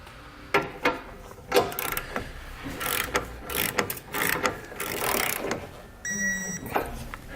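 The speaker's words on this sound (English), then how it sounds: "We're going to torque this bolt here to the specifications in the instructions." A socket wrench with a 22mm socket torques a base plate bolt on a 2017 vehicle, giving a series of close, uneven ratcheting clicks in short bursts, ending with a brief electronic beep.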